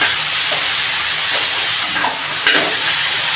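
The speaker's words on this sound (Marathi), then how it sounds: "आणि हलवायच्या, म्हणजे खाली लागणार नाही" A vegetable mixture for wheat momo filling is stirred in a hot pan, giving a steady frying sizzle with soft scraping strokes and a few brief louder clinks. No one speaks.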